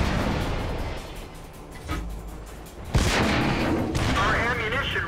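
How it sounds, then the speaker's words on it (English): Tank cannon fire in the video game World of Tanks: a couple of heavy booming shots, the loudest a sharp blast near the middle, over rumbling battle ambience. "those sneaky red dots are shooting me from behind."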